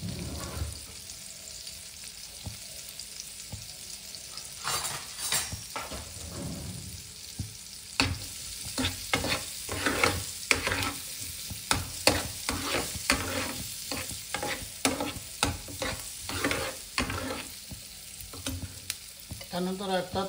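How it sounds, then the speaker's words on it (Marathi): Masala bun ingredients sauté in a pan under a soft, steady sizzle, with repeated scraping and stirring strokes of a utensil. The sound is close but fairly quiet, and no one speaks. "हा छान परतून घ्यायचा आधी."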